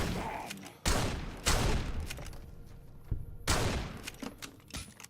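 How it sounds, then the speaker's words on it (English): Several sharp, loud shots from a .22 Derringer pistol in Fallout: New Vegas, spaced irregularly over a few seconds, each with a short echoing tail. "22 Derringer. I think it's the only gun in the game at the moment that has 4 shots."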